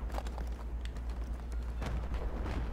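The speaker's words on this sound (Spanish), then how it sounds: "Y un balazo por allá." Gunshots ring out in a shooter video game, several sharp scattered bursts over a constant low rumble with no voices.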